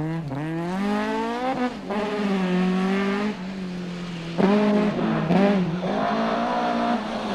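Rally car at a wet, slippery stage event, engine screaming through repeated high revs with rising and falling pitch as the wheels spin and scrabble for grip, loud and close, with faint crowd voices underneath.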